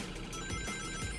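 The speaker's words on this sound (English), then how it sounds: "Sound like a ringtone." Short electronic ringtone-like chime from the Sonic X Shadow Generations game, a brief high tonal beep alone over faint game background.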